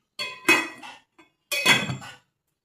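A lid is set back onto a cooking pot of fish stew with celery, giving two clanking metal bursts about a second apart, close and clear, with nothing else in between.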